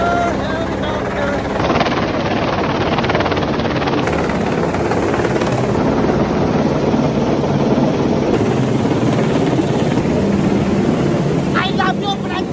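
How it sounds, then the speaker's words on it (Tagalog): Helicopter passing overhead with a steady loud rotor and turbine roar that fills the whole stretch, with excited voices shouting over it and wind buffeting the microphone. "Helicopter! Helicopter!"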